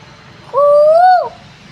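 A koel perched on a rooftop gives one clear, fairly close call, a smooth tone lasting under a second that rises slightly at the end, with quiet outdoor ambience before and after.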